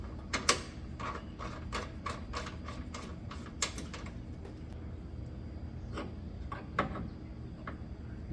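A wrench snugs a gas regulator line fitting while a Everlast PowerTIG 400 EXT TIG welder is being set up, using 17 and 19 sizes. It gives a close, quiet run of about a dozen quick metallic clicks and creaks, then a few more later.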